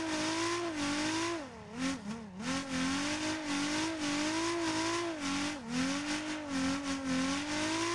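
Engine note of a drifting car in the racing game Torque Drift 2, the revs rising and dipping steadily through a handbrake-initiated slide, loud and continuous with a brief throttle lift in the middle.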